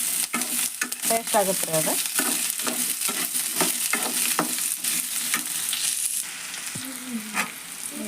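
Onions fry in plenty of oil for a chutney served with dosa, a close crackling sizzle broken by frequent sharp scrapes and clinks of a ladle stirring in the pan, with a brief spoken remark.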